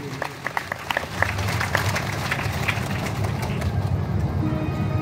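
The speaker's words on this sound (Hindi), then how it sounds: "एक बार जोरदार ताली हो जाए इसके" An audience at a Hindi-speaking gathering breaks into applause, starting as scattered claps and swelling into a sustained, fairly distant round of clapping, with faint chatter mixed in.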